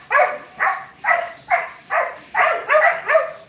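Dogs bark excitedly outdoors in a steady run of about eight loud, evenly spaced barks close by, with no other sounds between them.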